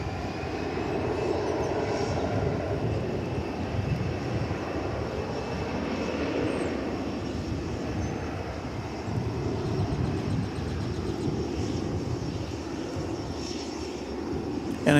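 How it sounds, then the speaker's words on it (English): Airplane, Flight 1291 bound for Salt Lake City, rolling on a runway at DFW Airport: a steady, broad jet engine roar holding at even loudness throughout, heard at a distance outdoors. "this is Flight 1291 going to Salt Lake City"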